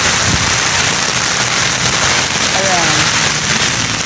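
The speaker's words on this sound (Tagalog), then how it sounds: "So, ganyan po kalakas ang ulan." Heavy rain pours steadily at an outdoor community outreach activity, a dense continuous roar with scattered sharp drop impacts, while a person speaks briefly over it.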